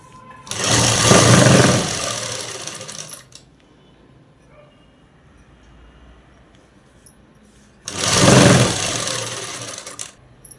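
A sewing machine stitches a jeans collar neck in two loud bursts of a few seconds each, separated by a long quiet stretch with faint handling noise.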